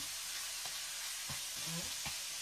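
Pork and beef mix frying in a pan, a steady soft sizzle with a few brief scraping stir sounds, quiet and close, with no talking.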